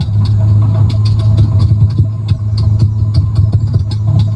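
Spitfire Merlin engine turning over on the starter in MSFS 2020, a steady low throbbing churn with rhythmic clicks, close and continuous.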